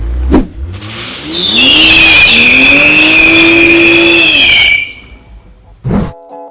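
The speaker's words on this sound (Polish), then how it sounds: "możemy teraz spalić kapcia w garażu, tak jak Wam obiecałem" A Toyota Supra does a loud burnout inside a garage, its engine revving and tires squealing in a sustained high screech for about three seconds before cutting off, with short bursts of engine noise before and after.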